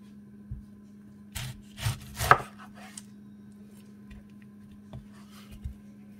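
A knife cuts through a pineapple on a cutting board, giving a few scattered, fairly faint knocks and thuds with quiet gaps between them.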